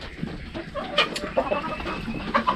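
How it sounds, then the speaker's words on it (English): Mixed breeds of chickens and a rooster clucking in a barnyard: busy overlapping clucks and short squawks close by, with no voices over them. "inside here is a wide variety of chickens. Like that rooster."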